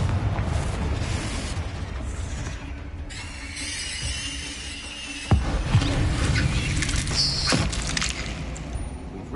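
A Confringo spell explosion in the video game Hogwarts Legacy, with a fiery burst and rumbling booms, a sudden sharp crash midway followed by squeals and crackling debris.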